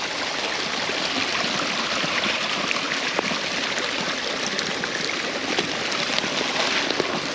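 Storm runoff flowing along a trail after a storm, a steady broadband rush of water that continues without a break throughout.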